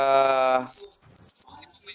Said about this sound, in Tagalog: may kuliglig lang po yung naririnig nyo